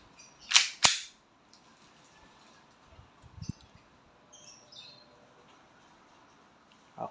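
An E&C Glock 19 Gen 5 airsoft pistol fires during a chronograph test: two sharp, loud snapping shots in quick succession, then quiet handling noises and faint clicks.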